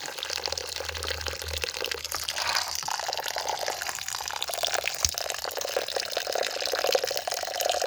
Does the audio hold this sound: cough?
no